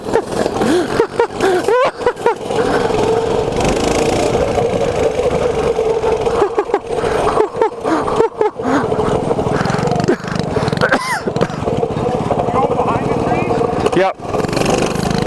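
Small mini bike engines rev and rattle continuously while being ridden rough, with no suspension, close and loud throughout, broken by brief dips, with voices and shouting over the engine noise.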